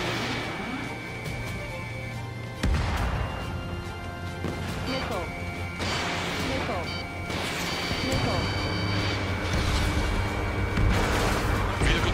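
Heavy artillery booms and crashing explosions from an Ace Combat 7 combat mission, a dense, loud barrage of impacts with radio chatter and voices running underneath throughout.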